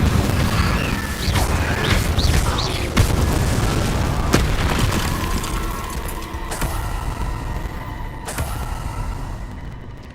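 Fire spell cast in the Hogwarts Legacy video game, a dense roaring whoosh of flame with booming bursts and crackling impacts that stays loud and continuous throughout, with no voices.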